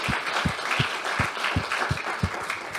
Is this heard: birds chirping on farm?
no